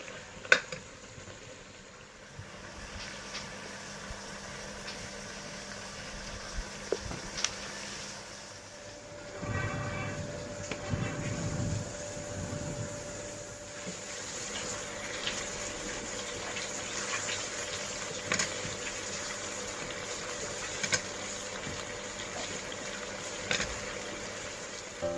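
Hot water poured into spices frying in a pan for goat mutton curry gives a rushing, sizzling gush partway through, then settles into a steady bubbling hiss over a low background hum. No one speaks.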